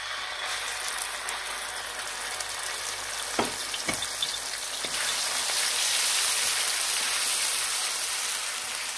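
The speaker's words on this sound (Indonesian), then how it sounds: "Setelah minyak panas, kita akan goreng bumbu terlebih dahulu." Spice paste for Indonesian urap vegetables frying in hot oil, a steady broadband sizzle that swells louder partway through, with a few brief clicks of stirring or utensil contact near the start.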